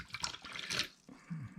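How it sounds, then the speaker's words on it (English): Water trickles and splashes into a bowl inside a snake enclosure, the pouring continuous at first, then a brief pause before a lower, duller fill resumes near the end. "So just filling up the water"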